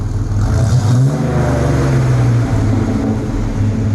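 A V6 truck engine fitted with Dynamax mufflers revs up once and settles, giving a loud, close, throaty rumble with a rising pitch that then holds steady, with no talking.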